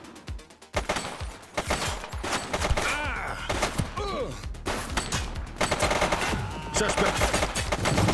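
Gunfire rings out in The Precinct video game as bursts of rapid shots mix with single cracks, loud and sustained over several seconds, with brief shouted voices in the mix.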